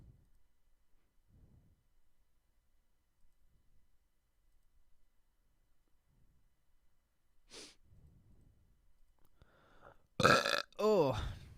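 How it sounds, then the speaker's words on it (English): A single loud burp erupts near the end of a mostly quiet stretch, close and abrupt, preceded by soft breaths and small clicks. "Oh, burps."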